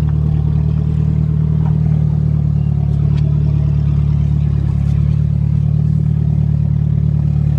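A 1992 Nissan car engine idles steadily and up close, a low, even drone with a faint clatter running through it. Nobody speaks over it.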